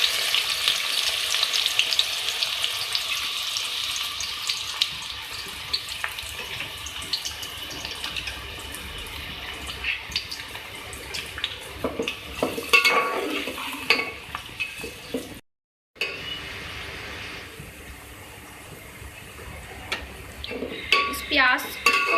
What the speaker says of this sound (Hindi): प्याज को हम जो है फ्राई करेंगे, और इसका जो कलर है वो लाइट ब्राउन आना चाहिए।